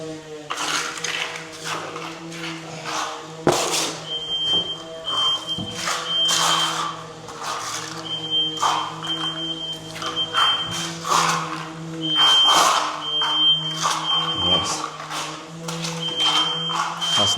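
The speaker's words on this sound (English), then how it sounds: "That's Nandi and the sander setting the smoke detector off." A smoke detector alarm beeps in a steady repeating rhythm indoors, set off by dust from a wall sander during plaster patching and skimming, sounding over clattering work noise and a busy room.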